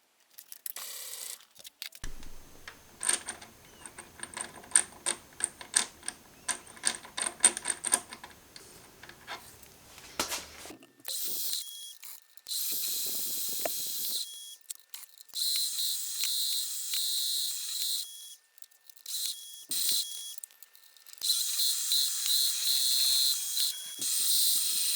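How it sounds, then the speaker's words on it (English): An end mill cuts flats between two bores on a hydraulic gear pump part, starting with rapid rattling clicks for several seconds, then long stretches of harsh hissing machining noise broken by short pauses. "I'll then come in with an end mill and mill a flat on each side in the spacing between the two bores"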